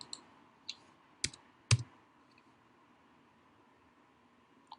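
Four or five sharp, isolated clicks from a computer keyboard are tapped out at an irregular pace, with a hard pair near the middle, over a faint quiet background hiss.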